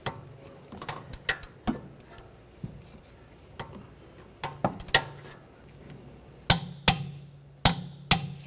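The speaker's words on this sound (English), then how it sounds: "Now we're gonna torque that bolt to 74 foot-pounds." Torque wrench tightening a rear control arm bolt on a 2009-2013 BMW 328i xDrive: sharp metallic clicks and knocks, sparse at first, then a close, loud run of evenly spaced clicks near the end.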